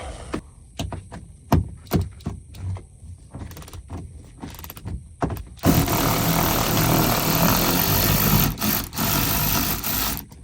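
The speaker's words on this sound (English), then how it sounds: "As you guys can see, not a strong ratchet at all" A hand ratchet wrench loosens interior bolts inside the cab of a 2000 Ford F350, giving a string of separate sharp clicks close by, before a steady loud rushing noise takes over for the rest.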